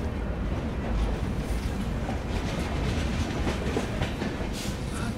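Vikramshila Express train pulling out of a junction in India, heard from on board as a loud, steady rumble with rhythmic wheel clatter on the rails, continuous throughout with no talk.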